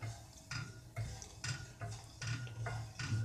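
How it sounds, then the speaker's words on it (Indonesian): Caraway hard candy mixture of sugar and Nigella sativa seeds being stirred in a pan, with a steady series of close clinking and scraping strokes of utensil against metal at a regular, clock-like rhythm. "Lalu aduk"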